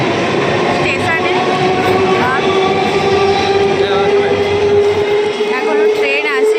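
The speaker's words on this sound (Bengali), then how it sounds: "আমাদের ট্রেন চলে এসছে, মানে আসেনি, আসছে" A passenger train pulls into a station with a loud, close, continuous rumble and a sustained tonal whine, while people talk nearby.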